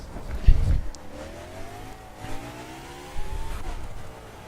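A KTM 1290 Super Duke R motorcycle engine in the racing game The Crew revs loud and close, its pitch climbing in two rising sweeps with a deep throaty burst at the start.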